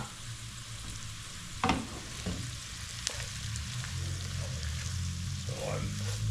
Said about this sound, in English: So I'm stirring in all the spices.